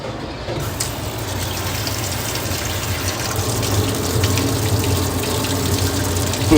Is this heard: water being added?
yes